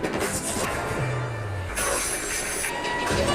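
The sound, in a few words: New York subway train in a TV show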